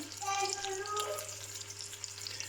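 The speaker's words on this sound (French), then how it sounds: "on voit que ça cuit, que ça va commencer son travail, la coloration" A peppered pork roast searing in a hot pan, a steady close sizzle and crackle with a faint hum in the background and no pauses.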